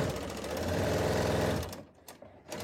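A sewing machine sews and trims thin scarf fabric, giving a loud, steady whirring drone up close that stops abruptly partway through, leaving a few faint clicks.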